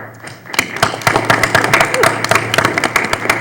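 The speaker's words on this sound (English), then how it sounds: "You deserve a round of applause." An audience at a Monroe Township Board of Education meeting breaks into applause, a dense run of close, loud claps rising suddenly after a quiet moment and continuing steadily, with a voice faintly underneath.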